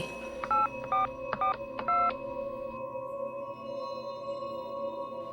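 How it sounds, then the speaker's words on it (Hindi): Four short, close telephone keypad beeps in quick succession, followed by a steady low electronic tone. "शर्मा जी को करके देखता हूँ।"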